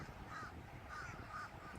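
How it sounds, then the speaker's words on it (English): Crows call outdoors near a parking lot with a few faint, repeated caws over a steady background hiss. "The sun is shining, the birds are singing as you can hear."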